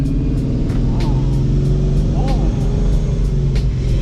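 A C6 Corvette ZR1 with a Paxton supercharger revs loud and close, its steady engine drone rising in pitch partway through with a whining edge.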